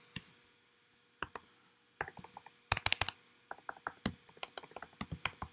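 Computer keyboard being typed on while writing code, heard close up as irregular bursts of crisp key clicks separated by short pauses, with no voice over them.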